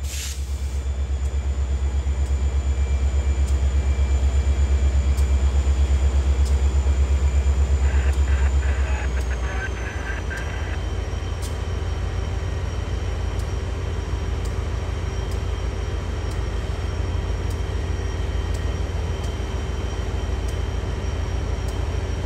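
An MBTA cable laying train rumbles past steadily, a deep continuous roar of rolling cars that eases slightly partway through, with faint clanks and squeals mixed in.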